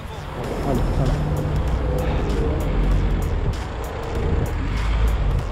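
A car idling and creeping along close behind a cyclist on a French bike street, a continuous low engine rumble under a heated spoken exchange between a man and the driver.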